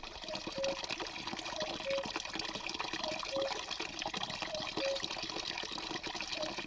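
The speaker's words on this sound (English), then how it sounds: "there is a source of water near this house." Water running from a source beside a rural house on the Camino de Santiago, a steady broadband rush that continues evenly throughout with no pauses, heard close and fairly loud.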